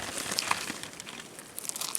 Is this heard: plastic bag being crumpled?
yes